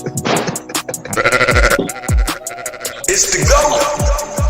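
A goat bleating sound effect plays loudly and close, several quavering bleats in a row cut against bursts of music and thumping beats.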